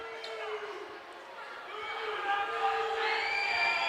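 High school basketball gym crowd at a Lower Cape May versus Wildwood Catholic game reacts to a shooting foul call with rising shouts, whistles and jeers that swell louder toward the end, while an announcer talks over it.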